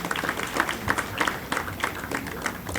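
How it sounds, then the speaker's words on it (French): An audience at an event in a hotel claps for a few seconds, a moderate patter of many hands close by with a voice faintly underneath. "Nous demandons nous battre un bel applaudissement pour M."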